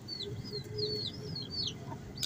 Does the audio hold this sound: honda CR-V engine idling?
no